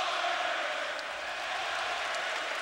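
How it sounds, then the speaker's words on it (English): Arena crowd roaring steadily through the fourth quarter of a Warriors vs Mavericks NBA playoff game, a dense sustained wash of cheering with no break, fairly loud and filling the whole space. "Listen to this crowd"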